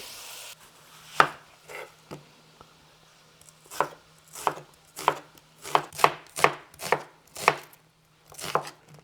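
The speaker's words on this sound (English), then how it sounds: "Let's go and cut our onion and come back." Onion being chopped with a knife on a board for lamb neck with fava bean rice: a dozen or so crisp, close knife strikes come in an uneven rhythm, with near silence between them.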